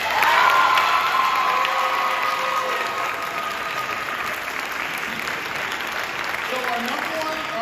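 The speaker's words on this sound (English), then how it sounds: "Let's give a round of applause for Spirit and MVP, David." Audience applause at a middle school cross-country team awards event, a loud burst of clapping with cheers and children's whoops that settles into steady sustained clapping from the crowd.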